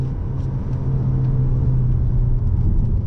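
A BMW M235 Gran Coupe driving on a wet road, heard from inside as a steady, loud, low engine drone and road rumble that holds evenly throughout.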